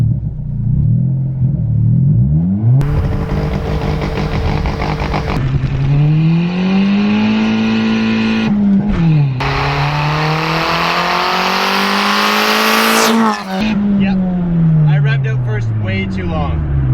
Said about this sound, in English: You could hear me just burning out.